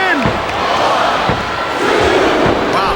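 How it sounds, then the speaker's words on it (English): A capacity crowd cheers at a wrestling match in a video game, a steady roar of noise with several dull thuds and slams from the ring. "It sounds like this capacity crowd has something on their minds, Taz."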